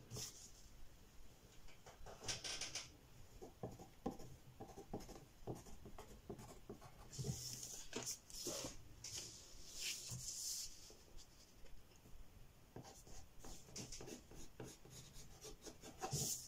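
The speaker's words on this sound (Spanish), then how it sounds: "Ya estoy dibujando la blusita que voy a hacer" Pencil drawing a girl's blouse pattern on paper, with quiet scratchy strokes and rubbing in irregular bursts, close and soft, with no talking.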